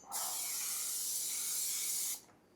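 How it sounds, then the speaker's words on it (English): Pam cooking spray is sprayed onto a pan for eggs, one steady bright hiss lasting about two seconds before cutting off, close and alone without talk. "we're gonna spray the pan down so the eggs don't stick"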